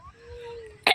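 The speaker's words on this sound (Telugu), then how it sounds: "దగ్గు జలుబు వేసింది" A single short, sharp cough or throat-clearing burst comes right at the end, fairly close, after a quiet stretch of faint outdoor ambience in a park.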